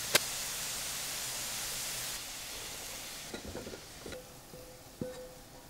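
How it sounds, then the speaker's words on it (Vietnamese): Steady sizzling of pork frying in a pan on the stove, with a few scraping and clinking stirs toward the end; no voices. "Sên thịt heo trên bếp cho đến khi thịt săn lại và chuyển màu vàng nâu đẹp mắt"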